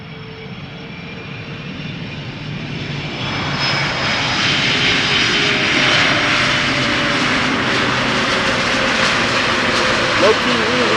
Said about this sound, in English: first up, KLM Flight 767, arriving from Bonaire, A330-200